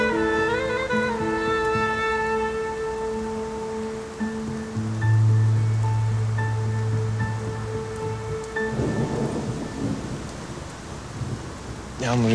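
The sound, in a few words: rain falling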